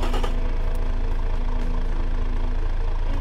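Diesel engine built in the Automation car-building game, heard as a steady, loud synthetic idle-to-rev drone with a strong low rumble and knocking pulse running continuously throughout.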